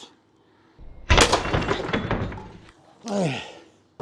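A single close, sharp thunk from a Hatsan Apache 1000 FPS air rifle fired outdoors on a windy day, followed immediately by someone talking.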